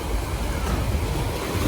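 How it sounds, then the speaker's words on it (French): Surf rolling onto a Mexican beach, a steady broadband wash of breaking waves with low rumble and some wind buffeting, continuous and fairly loud with no clear gaps. "Il y a vraiment des vagues, des super vagues."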